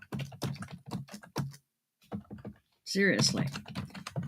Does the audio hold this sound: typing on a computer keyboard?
yes